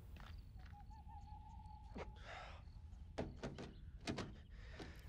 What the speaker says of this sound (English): the door won't open